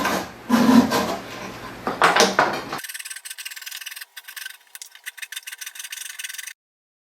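A chisel scrapes and clears a knife-wall channel in wood on a portable workbench, giving rough rubbing strokes and a couple of louder scrapes, then a run of quick, close scratchy rasps.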